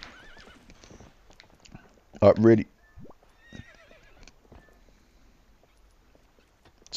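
Horse in the video game Zelda Twilight Princess gives one loud, short whinny amid quiet game sounds and faint hoof clops, with a person briefly speaking.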